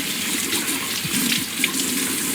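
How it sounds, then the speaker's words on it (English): Running water from a tap rinses soap off a fresh tattoo, a steady broadband splashing flow at close range with small fluctuations and no talk. "Once everything is lathered on, we could go ahead and start rinsing everything."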